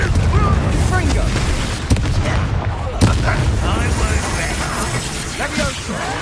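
Repeated explosive spell blasts from Confringo in Hogwarts Legacy, loud booming impacts with crackling mechanical debris over dense combat noise, a sharp burst near the middle and another a second later, with someone shouting spell names throughout.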